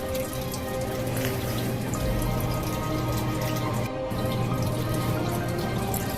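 Water keeps pouring into a chambered indoor sump pit from the footer drain tile, a continuous close splashing and trickling rush with a brief dip near the middle, no voices over it.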